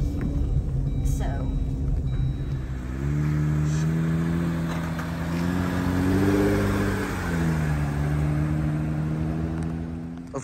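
Engine of a Jeep on large tires driving along a road, a steady mid-pitched rumble that swells and dips with light revving throughout, close and continuous, with a faint voice briefly over it.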